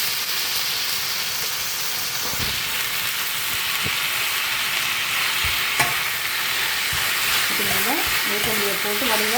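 Drumstick leaves and onions frying in a pan, stirred with a utensil: a steady broadband sizzle with occasional scraping clicks, and faint tonal squeaks near the end.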